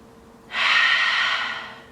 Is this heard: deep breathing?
yes